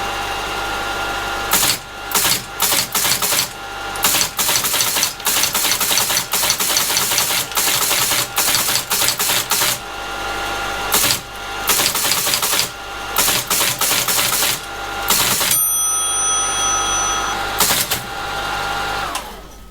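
A Teletype ASR33 runs just after a paper guide repair, with its mechanism still slightly tight. Loud close mechanical clattering comes in bursts of rapid strikes broken by short pauses, and a steadier whirring run follows near the end.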